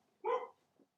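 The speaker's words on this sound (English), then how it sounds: "That's my dog barking again." A single dog bark sounds, faint and somewhat distant, followed by a softer brief trailing sound in an otherwise quiet setting.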